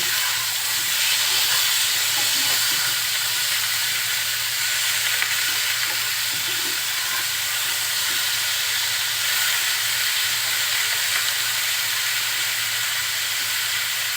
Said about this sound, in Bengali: এখন এই একই তেলের ভিতরে একটু লবণ দিয়ে আমি ফুলকপিগুলো একটু ভেজে নিব।